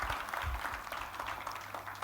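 Sustained applause from a church congregation, steady clapping filling the space at moderate distance without pause.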